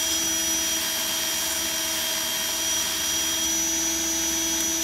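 Electric drill spinning a sandpaper-covered wheel to smooth the rough edges of a glass pane for a 1929 Ingraham mantle clock, a steady close whirring drone with constant pitch and no pauses throughout.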